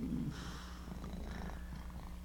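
A house cat purrs up close in a quiet room, a soft, steady low rumble that runs continuously, with a brief brighter rustle near the start and no talking.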